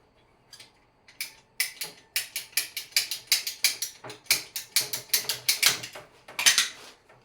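A hand crimping tool presses plumbing fittings overhead, giving a rapid run of sharp ratcheting clicks in quick bursts, close and fairly loud, with no talk.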